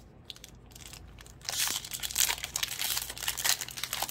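A foil wrapper from a Time Spiral Remastered trading card pack crinkles close up. Faint rustling builds into a sustained, loud, crackly crumpling for the last few seconds.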